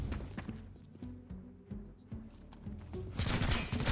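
Game music plays in XCOM Chimera Squad before a burst of gunfire lands near the end, loud and crackling, while tonal music lingers underneath.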